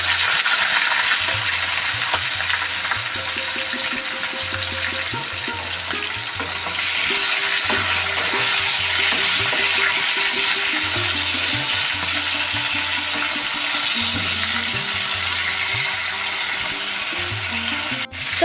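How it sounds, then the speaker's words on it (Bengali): Salt-rubbed chicken pieces frying in hot oil in a home kitchen, a loud, continuous close sizzle with occasional stirring clatter and no talking throughout. "তেল গরম হয়ে গেছে, চিকেনটা একটু ভেজে নেব"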